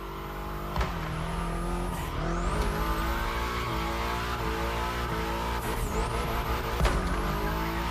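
Racing cars in The Crew Motorfest roar continuously with engine revving, gear shifts and repeated tire squeals, loud and busy throughout with no talking.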